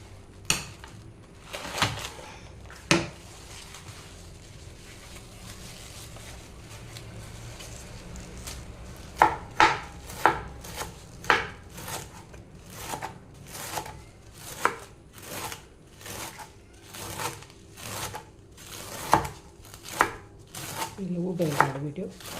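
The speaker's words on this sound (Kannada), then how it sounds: "ಇವಾಗ ನೋಡಿ ಎಲ್ಲ ಎಲೆಯನ್ನು ತೊಳೆದು ತಂದೆ. ಇವಾಗ ಇದನ್ನು ಪೂರವಾಗಿ ಕಟ್ ಮಾಡಬೇಕು." Washed leaves are chopped with a knife on a board, sparse at first, then a fast, regular run of crisp, close cuts with occasional clunks.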